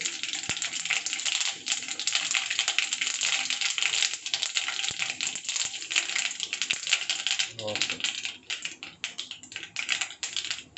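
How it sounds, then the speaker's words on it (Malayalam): Mustard seeds spluttering and crackling in hot coconut oil in a pan, a dense continuous sizzle with rapid popping throughout, close, with a brief voice partway through. "എണ്ണ നല്ലോണം ചൂടായി. ഇനി കടുക് ഇടാം."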